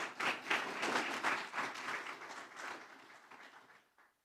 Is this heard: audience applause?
yes